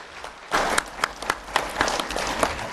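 An audience applauds school teachers and employees, a short, sparse burst of clapping that starts abruptly and comes in uneven claps, fairly faint and without voices.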